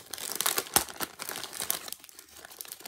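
Scissors cut open a TK Maxx package, with steady close plastic crinkling and rustling throughout and a few sharper snips and crunches.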